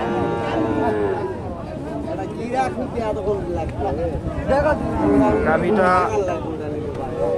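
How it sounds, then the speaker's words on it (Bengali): A large Sahiwal cow moos at a cattle market in Naogaon, drawn-out lowing calls rising and falling close by, mixed with people talking and crowd noise throughout. "দেখেন অনেক বিগ বড়ি একটা গরু"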